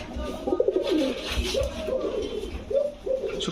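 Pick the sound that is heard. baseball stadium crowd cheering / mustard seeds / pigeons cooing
pigeons cooing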